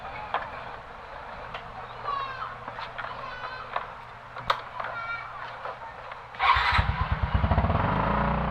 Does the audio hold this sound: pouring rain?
no